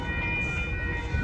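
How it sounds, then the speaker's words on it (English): Northbound Norfolk Southern grain train passing at a road crossing in Austin, Texas, a steady loud rumble with sustained horn-like tones held throughout. "There goes the northbound Norfolk Southern 4289"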